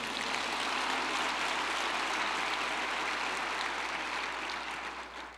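Sustained, dense applause from a church congregation during a communion service, steady and fairly loud throughout, tapering slightly at the end, with no voices over it.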